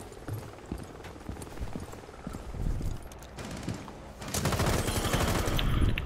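Gunfire crackles through a Rainbow Six Siege match: scattered single shots early on, then a dense, continuous burst of rapid automatic fire takes over for the last couple of seconds, fairly close and with no talk.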